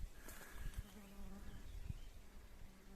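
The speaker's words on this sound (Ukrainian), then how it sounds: "Бджілки працюють." Bees at work among willowherb being gathered for tea, a faint close buzzing drone with soft rustles and a few light knocks, no voices.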